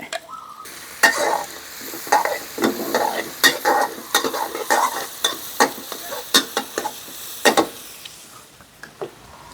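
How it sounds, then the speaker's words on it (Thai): Blended spice paste and holy basil fried in a pan, loud close sizzling with rapid, uneven spatula scrapes and knocks against the pan, no voices. "อ่ะใส่เครื่อง ที่เฮาปั่นไว้"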